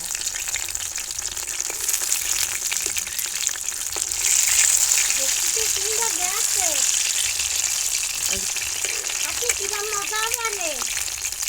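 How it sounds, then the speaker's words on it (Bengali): Bean chops frying in hot oil, a steady crackling sizzle that runs throughout the clip and rises briefly midway, with a voice speaking over it in the second half. "এবারে ভালো করে নেড়ে ছেড়ে সিমের চপগুলো ভেজে নেবো"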